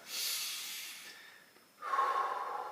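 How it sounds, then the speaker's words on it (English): Slow breathing during a full body stretch, an inhale followed by a longer exhale, soft and close with no talking. "Just make sure you're getting plenty of oxygen into your nose, out through your mouth."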